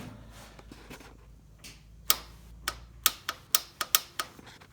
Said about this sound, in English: that clicking is the fuel solenoid, so I know the fuel solenoid's working.